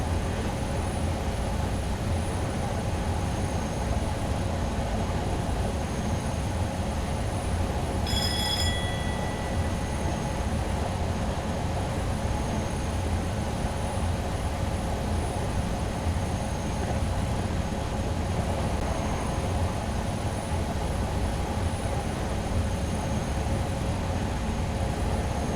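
A Class 47 diesel locomotive in Train Sim 2021 drones steadily and unbroken, a loud constant engine hum and rumble that barely changes, with a brief higher tone partway through and no voices.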